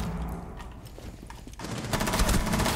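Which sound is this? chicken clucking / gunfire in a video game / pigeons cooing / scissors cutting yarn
gunfire in a video game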